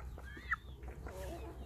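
Crossbred chickens in a coop give soft, faint clucks and a brief higher squawk, scattered over quiet background hum with no talk.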